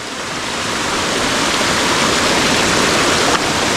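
Spring-fed stream water in a dense Konkan forest rushes steadily and loudly, a close, continuous broadband wash of flowing water with no voices.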